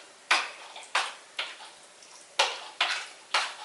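Homemade gel fish food for otocinclus fry being stirred together with vegetable baby food, giving six short, close scraping and squelching strokes at an uneven pace with brief quiet gaps in between.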